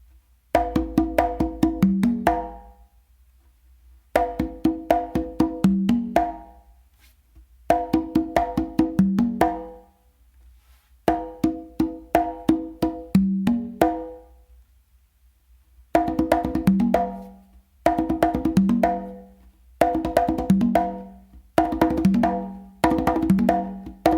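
Open tones and slaps on congas and tumba played in a repeating combination, sharp hand strikes in grouped phrases separated by brief pauses, close and clear with no talking.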